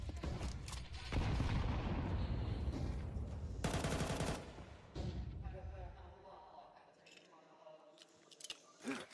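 Counter-Strike match gunfire from MP9 submachine guns and pistols: dense, rapid bursts of shots through the first half, thinning into scattered pops, with voices underneath throughout.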